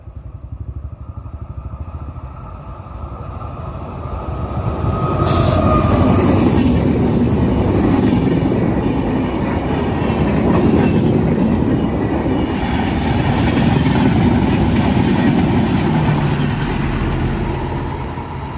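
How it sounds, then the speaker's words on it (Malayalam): A train passes a closed railway level crossing, its rumble swelling from a moderate approach into a loud, close, sustained roar of wheels and rail clatter that stays heavy to the end. "ട്രെയിൻ ഇപ്പോൾ വരും."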